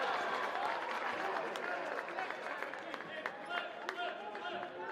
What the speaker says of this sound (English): Beavers fans have something to cheer about in front of their own section